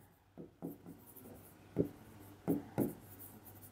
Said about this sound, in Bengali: সো এখানে আমরা লিখব